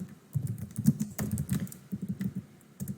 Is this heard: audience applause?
no